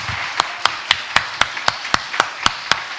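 A church congregation claps in a steady, even rhythm at a worship service, about a dozen crisp, sharp claps at a quick regular beat, with no voices.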